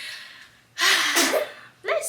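A sharp sneeze bursts out after a quiet breath, followed by a brief second breathy sound, close and loud with no other noise around.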